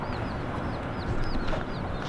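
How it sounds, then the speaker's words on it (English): Roosters crowing and clucking in the early morning, several birds calling close by in a busy, overlapping chorus. "Roosters, 3:30 in the morning"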